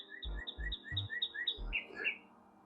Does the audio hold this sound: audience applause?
no